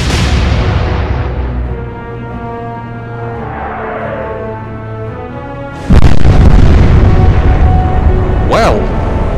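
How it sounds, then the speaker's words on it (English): Warship guns fire 8-inch high explosive shells in the Atlantic Fleet naval video game, a sudden heavy boom bursting in partway through over a sustained rumbling background, followed by a rising whistle-like tone. "we're going to fire 8-inch high explosive"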